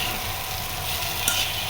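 Vegetable bhaji frying in a pan while being stirred, a steady close sizzle with soft scraping and a brief brighter clink near the end, no talk.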